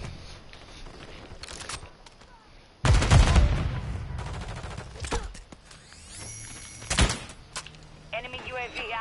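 Gunfire in a multiplayer shooter video game: a sudden loud burst of shots followed by scattered further shots and game sounds, with voices talking over the action.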